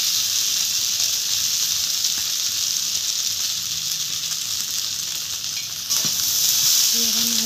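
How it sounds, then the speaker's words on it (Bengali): Soaked chowmein noodles frying in oil in a wok, a loud, even hiss of sizzling held for several seconds, with a short scrape of stirring near the end. "ভিজে রাখা চাউমিন করা এবার আমি দিয়ে দেবো কড়াইয়ের মধ্যে"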